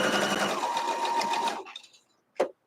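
A sewing machine stitches a double square quilt block in a loud, steady whirring run that lasts about a second and a half, then stops, followed by a brief click.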